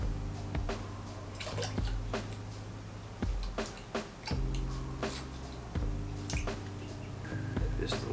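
X10D scent eliminator liquid poured from a bottle, a steady close trickle broken by glugging drips and bubbly splashes, several surges over a few seconds with faint voice now and then.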